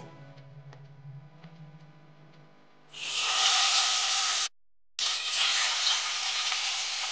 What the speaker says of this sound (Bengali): এবার আমি মাছের পিসগুলো দিয়ে দেবো তেলের মধ্যে